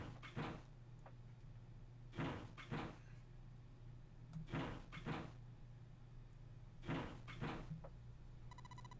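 In the 999 video game, doors are tried one after another: three pairs of rattling, clunking knocks separated by quiet pauses, fairly faint.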